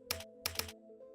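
Keys on a computer keyboard clatter in three quick bursts of tapping, close and crisp, with a faint hum behind and no talking.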